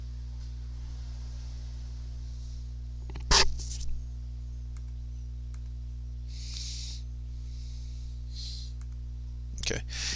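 A computer mouse gives two sharp, distinct clicks several seconds apart over a low steady electrical hum in a quiet room.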